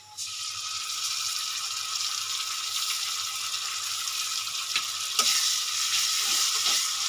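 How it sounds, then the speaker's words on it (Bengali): Sliced onions sizzle steadily in hot oil in a pan as ginger-garlic paste is added, with a few sharp clinks of a spoon stirring near the end and no talking. "পেঁয়াজটা আমার লাল লাল করে এই যে ভাজা হয়ে গেছে এবার আমি দিয়ে দেবো চায়ের চামচে দু চামচ আদা রসুন পেস্ট"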